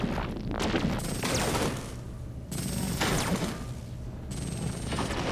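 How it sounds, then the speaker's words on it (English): Spaceship weapons fire in bursts during an Endless Space 2 space battle, clusters of rapid shots and booms separated by brief lulls, loud and close. "Oh, they're shooting."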